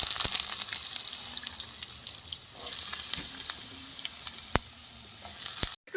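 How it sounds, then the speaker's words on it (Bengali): Potatoes fry in oil in a wok, giving a continuous close, bright sizzle with scattered sharp crackles and pops throughout, ending abruptly. "তো এবার আলুটা ভেজে নেব।"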